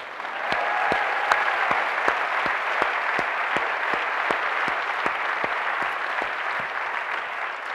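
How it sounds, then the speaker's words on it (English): Audience applause for student artists at an education event, a dense steady wash of clapping hands from a sizable crowd, close and loud throughout with no talk over it. "Please give another round of applause to all of our student artists"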